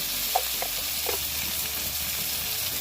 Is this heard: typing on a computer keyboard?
no